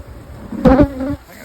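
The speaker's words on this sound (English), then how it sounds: "That's full of bees." Honeybees buzzing in a hive box being worked in the rain, a close, loud burst of humming with a brief louder swell in the middle before it drops back.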